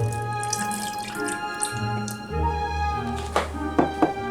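Lemon juice is poured from a freshly opened bottle into a quarter-cup measuring cup, a steady trickling gurgle with a rising pitch as the cup fills, ending in a few splashy drips.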